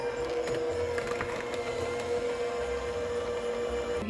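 Snickerdoodle cookie dough being mixed, likely by an electric mixer, a steady continuous whirring drone with a constant hum throughout, close and moderately loud with no talking.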